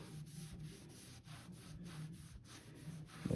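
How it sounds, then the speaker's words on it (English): A wet rag rubs over scuffed wood on a dinette being built for a 1984 Chris-Craft Catalina 381 boat, giving a steady soft swishing with regular strokes, close and alone. "we'll take a wet rag and watch this."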